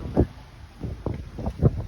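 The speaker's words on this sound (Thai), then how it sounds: "วิวนะคะวันนี้ลมแรง" Strong wind gusting across a hilltop Buddhist temple with a large Buddha statue in Mukdahan, Thailand, heard as repeated rough buffeting bursts of wind noise on the microphone, loud and uneven, with no talk.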